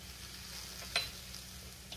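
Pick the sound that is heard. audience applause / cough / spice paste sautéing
spice paste sautéing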